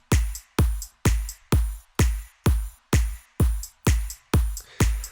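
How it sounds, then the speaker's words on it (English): A loud electronic drum loop repeats steadily, a deep thump paired with a crisp offbeat hi-hat on every beat, about two hits per second, with no voices. "Now just whack an offbeat hi-hat"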